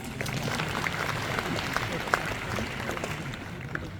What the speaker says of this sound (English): I think we can clap for this.